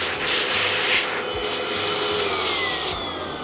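An electric air blower cleans dust off assembled brick sets, giving a loud, steady rushing whoosh of air that stays close and continuous throughout.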